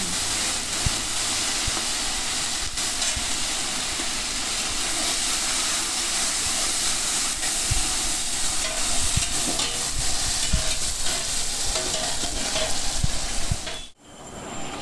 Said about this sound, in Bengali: কড়াইতে কালো জিরে ফোড়ন দিয়ে দিচ্ছি এবং সাথে শুকনো লঙ্কা ফোড়নের মধ্যে ইলিশ মাছের মাথাগুলো ভেজে নিচ্ছি